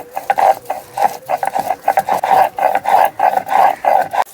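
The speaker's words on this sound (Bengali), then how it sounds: "এখন আমি আদাটা বেটে নিচ্ছি।" Ginger ground on a grinding stone makes rhythmic, close scraping strokes, repeated roughly twice a second in a steady back-and-forth pattern.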